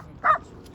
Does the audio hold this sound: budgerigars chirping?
no